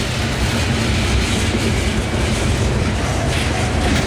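A CSX coal train hauled by ES44 locomotives, with two on the head end and a rear pusher, creeps past at close range, its loud, continuous rumble and steady clickety-clack of wheels on rails filling the whole stretch.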